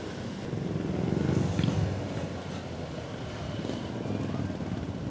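A dump truck drives by on a road near a subdivision in General Trias, heard as a broad engine and road rumble that swells briefly and then settles into a steady drone.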